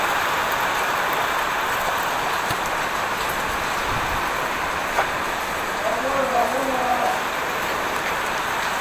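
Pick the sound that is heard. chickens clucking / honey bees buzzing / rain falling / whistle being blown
rain falling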